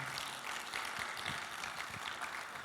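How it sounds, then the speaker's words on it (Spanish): Church congregation applauding for brother Luis, a steady quiet patter of clapping hands throughout, distant and even. "Le voy a pedir un aplauso más por nuestro hermano Luis"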